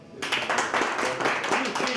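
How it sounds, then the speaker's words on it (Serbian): Audience applause at the Maraton Mira 2024 award ceremony, a steady dense patter of many hands clapping at close range, with voices mixed in throughout. "Jedan aplauz za Mikija."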